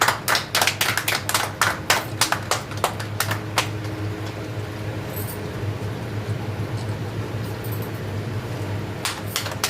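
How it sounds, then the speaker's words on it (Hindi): A small group claps quickly and unevenly at a coaching-centre celebration for a student's results, then the clapping stops and room hum takes over before a few claps return at the very end. "ताली बजा दो भाई।"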